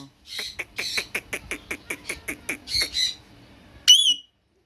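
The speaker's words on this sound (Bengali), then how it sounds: "খুবই সুন্দর একটা চন্দনা মিটু মিটু ফুল চেহারাটা আমরা একটু দেখাইতেছি ভালোভাবে" A caged Alexandrine parakeet gives a rapid run of about a dozen harsh, evenly spaced chattering squawks, close and clear, then ends with a short, bright, rising whistle.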